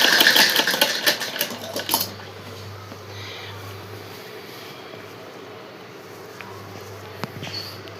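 A sewing machine runs through the first two seconds while stitching a curved double seam on a suit sleeve, with a dense rapid rattle that then gives way to quiet room tone and a low steady hum.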